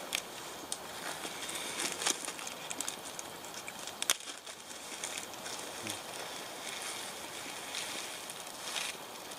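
Water rolling at a boil in a metal canteen cup over a camp stove, a steady close bubbling hiss with a faint crackle throughout, no voices.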